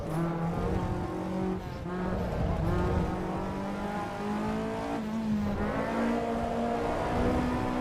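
Caterham and Acura NSX race cars in the AC EVO racing sim roar with engines at high revs and shift between gears. Occasional tyre squeal cuts through the continuous loud engine noise, and no voice is heard.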